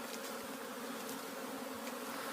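A steady, dense hum of many honeybees buzzing together during a cleansing flight, continuous and fairly close, with no voices.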